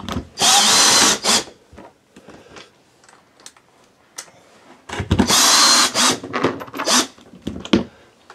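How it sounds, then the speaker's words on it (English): Power drill driving screws back into their old holes to refasten a panel over an RV sewer tank: two loud bursts of motor whine, each about a second long, separated by quieter clicks and handling noises. "just screw it right back down. Screws go right back in the old holes."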